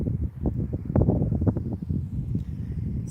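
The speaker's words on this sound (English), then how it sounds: "It's getting a bit windy though now and a bit chilly." Wind blowing at sundown on Morecambe Bay in England, a low, continuous rumbling buffet against the microphone with uneven gusts, fairly close and steady.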